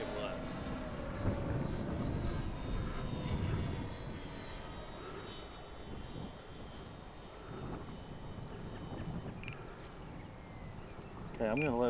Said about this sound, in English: Was that a half flap takeoff?